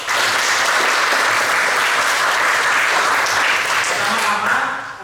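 A school class applauding together, loud, close and continuous clapping from many hands filling the whole stretch, tapering slightly at the very end.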